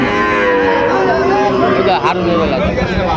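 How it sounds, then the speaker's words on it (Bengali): Cattle low in a long harmonic moo at a busy Dinajpur livestock market selling Sahiwal bull calves, loud and close against a steady crowd murmur. "গরু"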